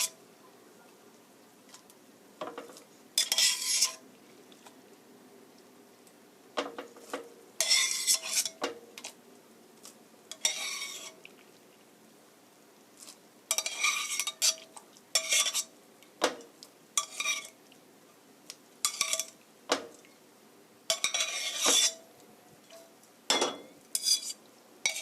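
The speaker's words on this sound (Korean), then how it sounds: "고루 버무려 주세요" Spaghetti being tossed in soybean paste sauce in a pan with the heat off, heard as close bursts of utensil scraping and clinking against the pan, separated by quiet pauses.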